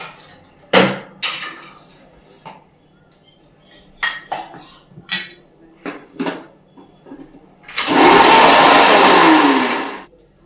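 Electric mixer grinder whirring loudly for about two seconds as it grinds cumin, ginger and dried chilli into a paste, preceded by scattered kitchen clatter of utensils.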